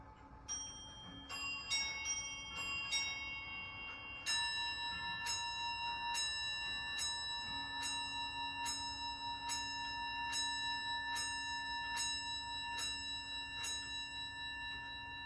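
Antique 18th-century tall case clock striking its chime, a quick run of bright bell notes followed by a steady series of evenly spaced strikes that ring on and overlap, heard fairly faintly.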